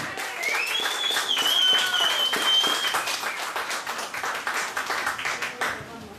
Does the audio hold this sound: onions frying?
no